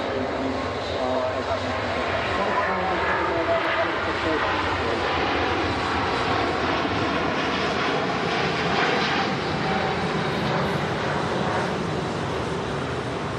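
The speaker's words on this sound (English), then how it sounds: "That's the Emirates A380." An Emirates Airbus A380 roars past at Manchester Airport, its jet engines a loud, sustained broadband rumble that holds steady throughout.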